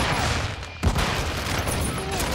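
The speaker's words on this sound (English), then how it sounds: "Taking effective fire." Bursts of rapid gunfire in a military video game crackle densely throughout, loud and close, with a sharp report standing out partway, while radio-style voices speak underneath.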